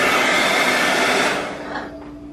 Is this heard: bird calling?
no